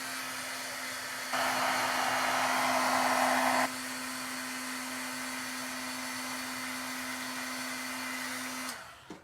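Heat tool running steadily for embossing powder on a holiday gift tag, a constant whirring hum with a steady whine, louder and airier for a couple of seconds in the middle, then cutting off at the end.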